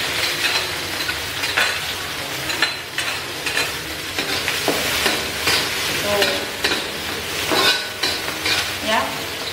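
Onions, celery leaves and tomato stir-frying in a pan, a constant hissing sizzle broken by repeated spatula scrapes and stirs at an uneven rhythm, loud and close, with no talk.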